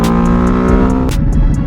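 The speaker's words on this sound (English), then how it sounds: "the bike revs up mysteriously by itself" A Ducati Hypermotard 950 RVE engine revs loudly up close, a steady droning growl that shifts pitch partway through.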